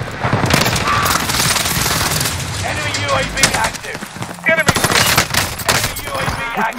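Dense automatic gunfire rattles through a Warzone Rebirth Island match, rapid bursts from an MP40 and other weapons overlapping loud and close with brief gaps, under game voice announcements.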